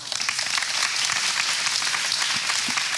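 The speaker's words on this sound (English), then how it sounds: "I want to ask you guys if you want to help me give them, once again, a big applause" Audience applause at a fashion week talk on upcycling fills the room, dense steady clapping from many hands throughout, fairly loud and close with no talk over it.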